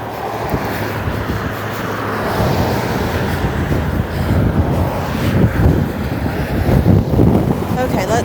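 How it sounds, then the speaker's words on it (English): Strong wind off the North Atlantic coast at Spryfield, Halifax, Canada, roars and buffets the microphone in loud, continuous gusts that swell and ease without letup. "That wind. Welcome to the North Atlantic."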